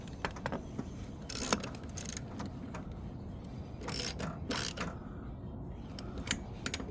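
Wheel bolts on an EGO Z6 mower are tightened one after another, producing ratcheting clicks, metallic rattles and short mechanical bursts at close range with no talking.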